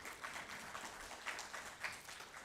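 An audience at a college convocation applauds, with quiet, distant, steady clapping in a hall.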